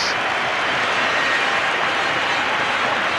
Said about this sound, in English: Sympathetic applause from the Torquay fans.